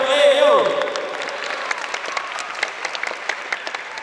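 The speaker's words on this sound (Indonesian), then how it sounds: "tepuk tangan, kurang meriah" Students at an Islamic boarding school welcome session clap for a classmate, a burst of dense applause that fades into scattered, sparse claps, with a brief voice at the start.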